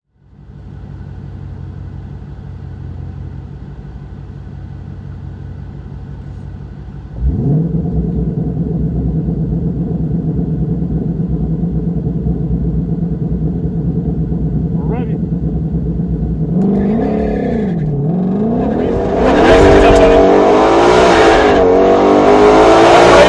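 A 2020 Ford Mustang GT500 at the track, idling with a steady rumble, then the engine note jumps and climbs through loud revs and acceleration; someone talks over it at points.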